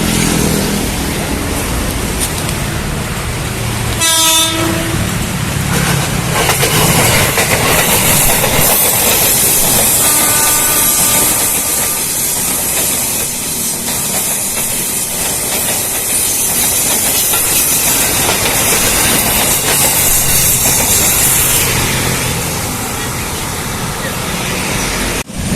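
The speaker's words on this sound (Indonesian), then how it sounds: "Oh, pas banget ada kereta." A train rumbles past very close and loud near a street protest, its wheels clattering rhythmically amid a broad hiss that lasts the whole time.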